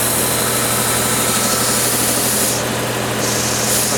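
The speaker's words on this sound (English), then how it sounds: "I'm using the belt sander as a grinding machine." Belt sander run as a grinding machine, a loud steady motor hum with continuous abrasive grinding noise throughout, no talk over it.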